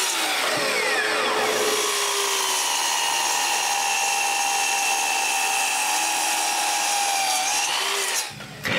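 A power tool cuts mortises in wooden frame pieces for domino joints, a loud, continuous high whine up close. It holds steady and then drops out briefly near the end, with no voices.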